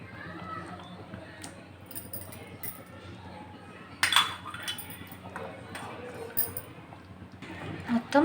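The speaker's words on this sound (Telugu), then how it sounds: "చేప ముక్కలు కన్నిటికి ఈ మసాలా మొత్తం పట్టేలా ఇలా కదిలించుకోవాలి" Pieces of fish being stirred through masala in a pot, with soft scraping and occasional metallic clinks of utensil against the pot, under someone talking.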